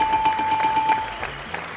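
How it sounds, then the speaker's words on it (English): An electronic buzzer is pressed during a live Salvation Army Red Shield event, giving a repeated bright tone: a run of short, evenly spaced beeps over a steady hum lasting about a second, close and clear, with no speech. "Let me press the buzzer now to speak to"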